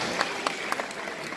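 Scattered clapping from a graduation audience at an 8th grade ceremony, a few sharp claps rising over a steady hiss of soft applause in a large hall.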